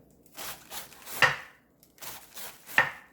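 A knife shredding cabbage, two short bursts of quick slicing strokes each ending in a sharper cut, separated by a brief pause, heard close with no talking.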